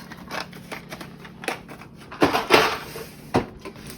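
A drawer on a plastic Amazon storage cart holding cookie-decorating supplies slides open, with a few close, sharp clicks and rattles and a louder clatter near the end; no talking.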